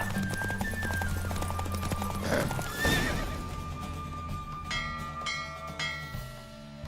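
Galloping hooves from a horse race in The Witcher 3, loud at first with a whinny, then slowing and fading as music continues.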